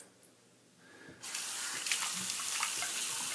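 Water from a bathroom tap gushes into a sink before a shave, starting abruptly and then running in a steady, close hiss with light splashing.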